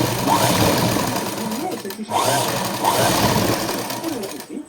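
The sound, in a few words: sewing machine stitching a blouse neck strip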